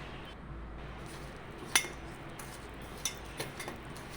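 Fish fry marinade with lemon juice is stirred in a bowl, giving faint scraping with a few light metallic clinks of a spoon against the bowl over quiet background.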